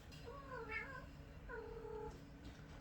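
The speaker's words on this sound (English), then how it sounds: "My cat wants to leave." A cat meows twice, close and fairly loud, two drawn-out, wavering calls with a short pause between them, in a quiet indoor room.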